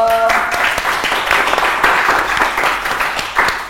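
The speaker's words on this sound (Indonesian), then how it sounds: "Luar biasa sekali tepuk tangan, ada Mas Angga Sasongko" Studio audience applause at a talk show, dense clapping that swells and dips across the clip after a brief musical tone at the start, with faint voices underneath.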